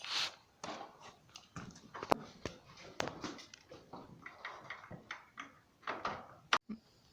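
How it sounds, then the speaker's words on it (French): Door being set into the frame of a self-built tiny house: a close run of knocks, scrapes and bumps with a few sharp clacks and a hard bang near the end, alone without talk. "Bon bah ça y est, la porte est mise."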